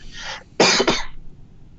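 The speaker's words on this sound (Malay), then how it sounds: "dia dah start batuk sikit" A man coughs a few times close by: one soft cough, then two sharp, loud bursts in quick succession, with a quiet room behind them.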